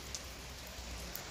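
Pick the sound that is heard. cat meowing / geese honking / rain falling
rain falling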